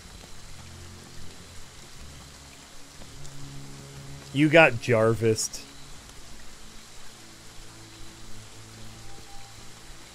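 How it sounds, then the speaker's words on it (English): Soft steady hiss of rain falling in the Friday the 13th video game, continuous and faint beneath a short burst of talking midway. "Now you gotta run all the way there in the rain."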